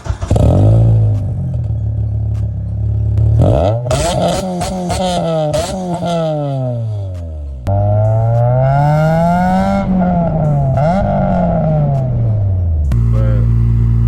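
A Honda K20A3 engine in an Acura RSX on stock ECU cranks and catches on a cold start, then revs repeatedly, rising and falling in loud throaty bursts before settling to a rumbling idle.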